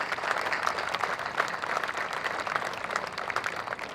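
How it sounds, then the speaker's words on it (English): An audience at a park reopening bursts into steady, dense applause for the event's sponsors, with a crowd clapping continuously and fairly loudly throughout. "Let's give them a big round of applause"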